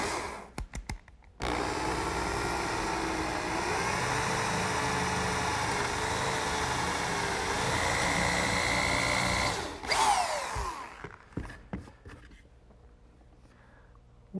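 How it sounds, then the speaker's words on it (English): A power drill turns a 3/8-inch brad point bit into oak for a dowel hole, a steady close whine running about eight seconds before winding down, with a few clicks and handling noises around it. "I'm going to use a 3/8 brad point bit, and I've put a piece of tape on it to tell me how deep to drill."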